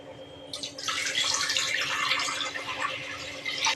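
Water is poured into a pot for cooking pongal, a steady, close splashing stream that begins about half a second in and runs on alone with no talk over it.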